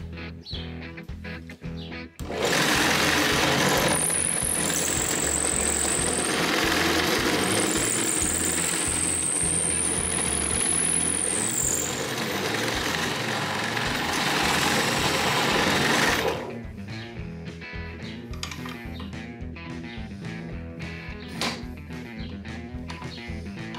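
A Scheppach bench drill press runs with a steady, loud motor whine and a high tonal squeal for about fourteen seconds, then drops to a softer rattling hum.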